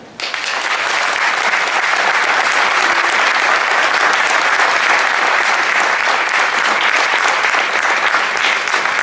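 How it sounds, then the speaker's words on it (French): A crowd at a community tournament event in Paris breaks into loud, dense applause for a former association president, a thick, unbroken roar of clapping that holds steady and close throughout. "Je vous demande de faire un tonnerre d'applaudissements"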